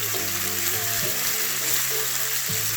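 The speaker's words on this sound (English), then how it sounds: "We're going to cook these long and slow and caramelize them." Sliced onions sizzling loudly in a hot pan over high heat as they fry toward caramelizing, with a continuous close crackle and occasional stirring scrapes.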